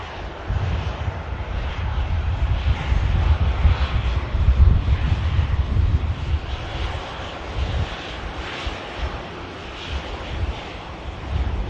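An Airbus neo jet at Manchester Airport roars steadily for the whole stretch, a loud broad engine rumble with wind buffeting the microphone outdoors.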